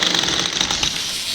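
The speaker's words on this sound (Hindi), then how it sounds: "ड्रिल मशीन चल रही है" A drill machine breaking up a concrete floor nearby gives a continuous, fast rattling hammer, loud and steady throughout.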